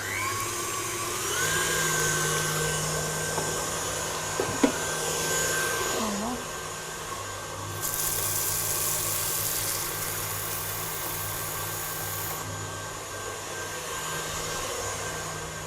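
An electric mixer whirs steadily while beating eggs with sugar for a génoise sponge, a continuous motor drone running throughout with a brief change in pitch midway.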